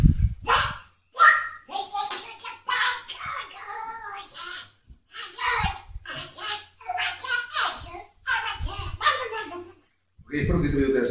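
A voice imitates Donald Duck, squawking in quick garbled bursts with short pauses between phrases.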